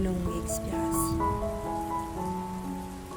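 Rain falls in an even, continuous wash of patter beneath slow, sustained soft musical notes, steady and soothing from start to finish.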